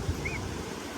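Wind blows across a beach in Spain as a steady, fairly loud rush with low rumbling gusts against the microphone, continuous throughout and alone with no talk.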